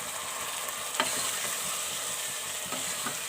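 Mashed boiled turnip stirred and frying in a pan for a turnip bhujia, a continuous soft sizzle with a few sharp scrapes of the spoon against the pan, close and steady.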